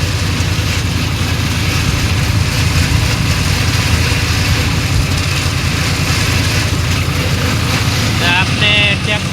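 A tractor running a Shaktiman mobile shredder through a cotton field makes a loud, steady engine drone, and a voice briefly joins near the end.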